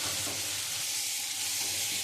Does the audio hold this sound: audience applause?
no